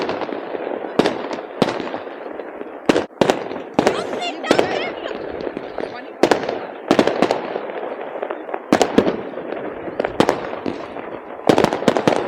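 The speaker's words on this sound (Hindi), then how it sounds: "शहर में और भी जगहों पे पटाखे बजाए जा रहे हैं" New Year fireworks and firecrackers in a Norwegian city burst again and again, sharp cracks and booms scattered irregularly over a steady crackling background, with someone talking throughout.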